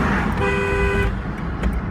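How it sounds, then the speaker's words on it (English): A single car horn sounds once for about half a second, close and loud, over low road and engine rumble. "this person honked at me, flipped me off."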